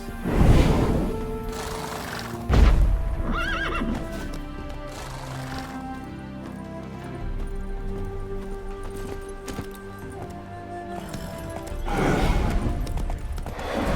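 Horse in The Witcher III video game, with loud hooves clip-clopping, a couple of whinnies and neighs, and game music throughout.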